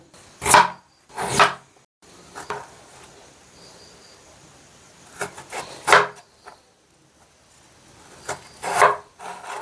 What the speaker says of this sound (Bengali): এবারে কাটবো লম্বা লম্বা একটা গাজর